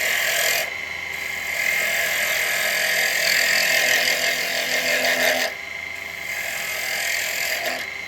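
A carbide woodturning chisel cuts spinning wood on a lathe above centre, a sustained, loud rasping hiss that runs steadily, breaks briefly twice, then resumes.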